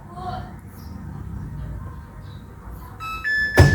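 A Samsung washing machine plays its short electronic end-of-wash melody, a few bright tones near the end following quiet room noise, with a thud right after.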